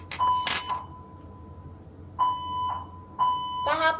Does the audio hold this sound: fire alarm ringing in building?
yes